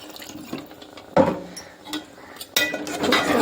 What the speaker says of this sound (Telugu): కొంచెం తగినంత వాటర్ అయితే పోస్తున్నాను.